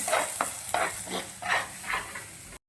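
Masala spice paste fried in oil in a pan while mutton is being cooked, with a steady sizzle broken by several sharp scraping stir strokes roughly every half second, close and fairly loud, with no talking.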